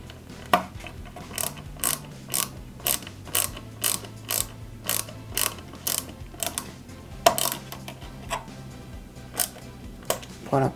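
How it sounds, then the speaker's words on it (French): A small screwdriver drives three screws into the base of a Peugeot 205 GTI 1.9 scale model kit, a steady series of close, sharp ratcheting clicks at a regular rhythm with no talking. "on la maintient et on y met 3 vis AP"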